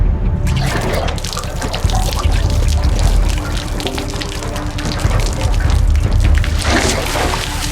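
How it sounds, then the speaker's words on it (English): Liquid pours steadily and loudly in a drama scene from the series Testament, a continuous splashing gush with bursts of spattering over low background rumble. "Start pouring."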